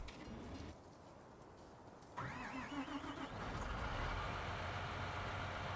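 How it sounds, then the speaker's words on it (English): A vehicle engine starting in the Farming Simulator 19 game: a quiet mechanical rumble, then at midpoint a cranking whir that catches and builds into a steady, louder running drone. "That engine start."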